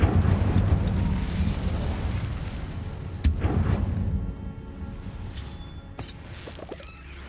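An Incendio fire spell cast in Hogwarts Legacy bursts with a loud, deep whooshing roar and sharp cracks that fade over several seconds into a quieter crackle.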